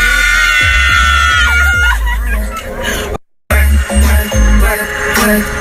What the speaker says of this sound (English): can we scream again?